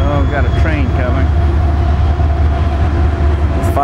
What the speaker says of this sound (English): Oh, got a train coming.